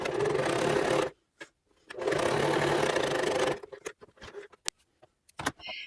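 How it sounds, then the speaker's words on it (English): A sewing machine stitches the hems of fabric pockets in two steady whirring bursts of about a second each, close and clear, followed by quieter handling clicks and rustles. "I went ahead and sewed that on each end"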